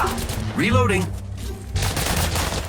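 Burst of gunfire in the mobile shooter Apex Legends Mobile, loud close shots mixed with game sound effects and a rising tonal sweep, a voice briefly talking in the middle.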